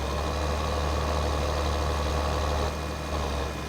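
Tractor engine idling in Farming Simulator 2013, a steady low mechanical drone with a slight dip in level near the end, heard alone without talk.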